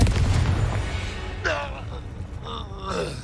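Confringo fire spell blast in Hogwarts Legacy, a heavy booming burst with rumbling low end at the start, followed by voices shouting during combat.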